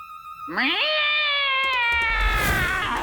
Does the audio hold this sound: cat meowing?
yes